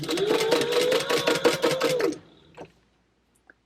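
A sewing machine runs steadily for about two seconds stitching a seam on a leather wallet at a 4 stitch length, with a rapid mechanical rhythm, then stops abruptly and leaves near silence with a few faint clicks.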